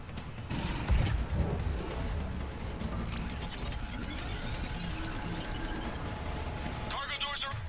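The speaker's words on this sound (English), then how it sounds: "Cargo doors are opening, Commander." Heavy cargo doors grind and creak open in the video game Mass Effect 3, a sustained mechanical rumble with ratcheting and metallic clanks that ends in a sharper clatter.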